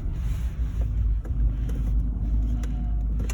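A 2004 Seat Ibiza 1.4 automatic drives along a road, its steady low engine and road rumble continuous and close, with faint wind noise and a few soft knocks over the top.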